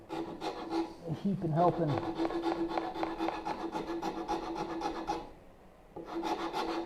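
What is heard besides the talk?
rasp shaping wood for a bow saw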